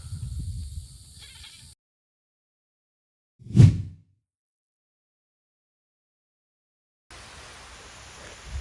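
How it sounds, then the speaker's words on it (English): A single short goat bleat rings out alone amid silence, with faint background noise before and after. "Leave my goats alone."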